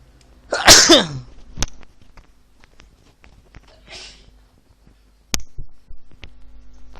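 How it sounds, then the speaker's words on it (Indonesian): A single loud, sharp sneeze bursts out near the start, followed by a few faint clicks and a quieter sharp noise later. "bersin. Tapi tidak ada corona ya."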